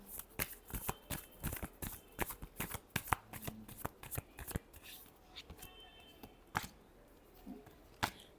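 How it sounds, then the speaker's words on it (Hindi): Tarot cards being shuffled in rapid bursts of crisp riffling and slapping, close and fairly quiet, with brief pauses between shuffles and no voices. "last shuffle"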